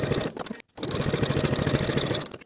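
Sewing machine edge stitching fabric pockets to their seam allowances on palazzo pants, a close, loud rapid mechanical whirring that stops briefly, then runs steadily again before winding down.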